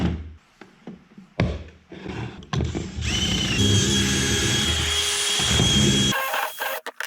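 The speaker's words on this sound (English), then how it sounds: "I'm gonna drill pocket holes on the inside of the board here and here." A power drill whirs in short bursts boring pocket holes in a wooden board, then runs steadily for about three seconds at high pitch before stopping, with brief clatter around it.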